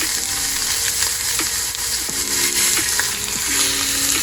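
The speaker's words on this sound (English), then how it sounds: "we are gonna go ahead and get a good sear on both sides" A seasoned ribeye steak sears in a hot pan with a loud, continuous hissing sizzle close by, a faint tonal hum running underneath; nobody speaks.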